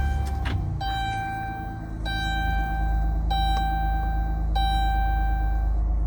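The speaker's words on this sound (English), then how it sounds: "Let's go ahead and start up the van." A 2018 Dodge Grand Caravan SXT van with a power fold-out ramp starting up, the engine settling into a steady low idle while a dashboard chime repeats in regular pinging tones over it.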